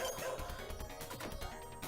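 In the arcade game Shadow Dancer, a ninja's dog barks a few quick times amid busy game music and crashing effects, fairly loud and close.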